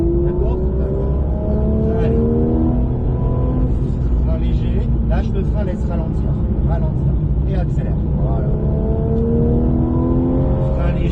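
A Porsche GT3 RS accelerates hard on a track at Saintonge, its engine a loud steady roar heard from inside the car with rising and falling pitch through the gears, while an instructor talks over it.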